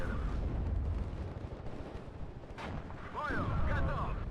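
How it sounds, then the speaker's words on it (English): A T-64 tank fires in the WARNO wargame amid a battle: heavy rumbling booms and low blasts roll through a dense mix of combat noise, with a voice faintly present near the end. "T-64 is able to fire in from the right hand side"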